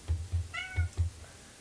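A pet male cat lets out one short, close meow in a quiet room, set among several low, dull thumps.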